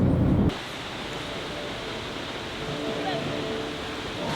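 Roaring waterfall in Iceland, heard up close as a steady, loud broadband rush of falling water, with a brief louder burst at the very start and no talking.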